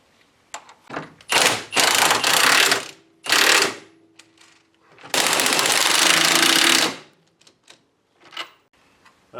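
A nut being tightened onto a bolt with a ratchet or power tool during an LS engine swap, heard as several loud, rough mechanical bursts separated by short pauses, close by and with no talking.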